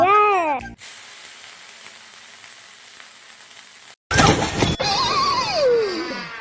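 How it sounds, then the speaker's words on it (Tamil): Small dosas sizzle on a hot pan: a steady low hiss, then a sudden loud sizzling burst that settles into continued frying, with voices talking before and after. "இப்போ நம்ம அந்த குட்டி குட்டி தோசை சுட போறோம்"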